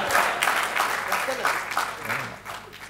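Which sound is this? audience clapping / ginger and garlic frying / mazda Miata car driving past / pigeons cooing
audience clapping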